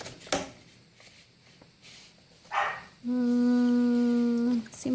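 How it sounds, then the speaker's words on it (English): A dog indoors gives a few short barks and a whimpering sound, then lets out one long, loud, steady howl lasting over a second before falling quiet. "And Carly barking in there doesn't help at all"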